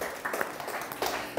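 Brief clapping from an audience at a talk on corporate survival, a short burst of scattered hand claps with a few louder pops, fairly faint and over in about a second.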